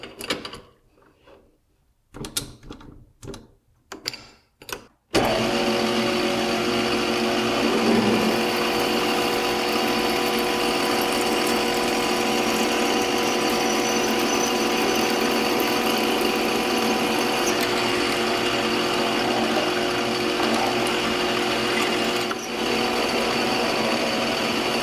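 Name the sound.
drill punching a clearance hole through a mill handle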